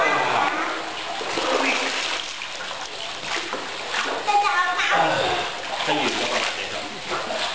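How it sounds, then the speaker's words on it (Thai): A person swims in a hot spring pool in Chiang Mai, Thailand, with continuous close splashing and sloshing water and people talking over it. "ป้าจะว่ายน้ำโชว์ให้ผู้ชมดูหน่อยเลย"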